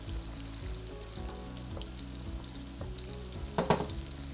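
Chickpea pasta being stirred in a pot of boiling water, with a soft bubbling sizzle and faint scraping strokes that end in a brief, louder clatter, all quiet and close.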